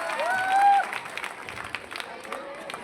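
A crowd at a Hindi poetry recital gives faint, scattered applause, with sparse claps and a low murmur of voices alongside a thin whistling tone.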